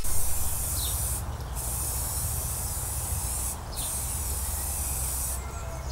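Spray paint hissing onto a wooden bug-screen frame in three short bursts, with a continuous low hum and steady noise underneath, close and fairly loud.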